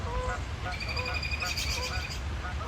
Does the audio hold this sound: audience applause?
no